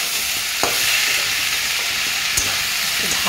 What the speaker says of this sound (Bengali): এবার নাড়ানাড়ি চলছে